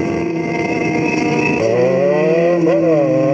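A Yamaha XJ6 motorcycle engine revs up loudly and close by, its pitch climbing steadily, dipping briefly, then rising again.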